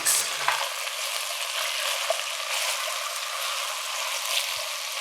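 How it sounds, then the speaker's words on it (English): Asparagus being stirred in a hot pot, a steady close sizzle with soft scraping and shuffling of the spear pieces throughout, fairly loud and continuous. "we're just going to stir this in until the asparagus turns bright green"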